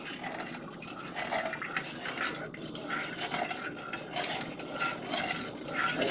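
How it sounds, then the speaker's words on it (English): A spoon stirs milk slowly into cornstarch in a bowl for homemade vanilla pudding, making a steady soft scraping and swishing with rhythmic strokes, close and continuous. "you want to stir in your milk very slowly, because this is what the cornstarch makes the pudding thick"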